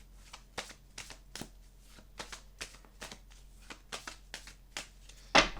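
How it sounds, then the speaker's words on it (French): Oracle cards shuffled by hand in a quiet room, a soft irregular run of riffling taps and slides, close and faint, ending with a sharper snap as a card is drawn out. "Je vais aller chercher quelques cartes."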